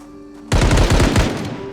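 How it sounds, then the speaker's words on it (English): Gunfire in the video game Project Zomboid: a sudden loud rapid burst of several close shots cuts through a quiet hum and then rings off briefly. "A gunshot startles me out of nowhere."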